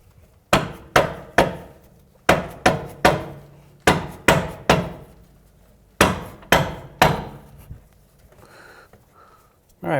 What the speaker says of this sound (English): we're going to try hitting the control arm up and twisting the bolt at the same time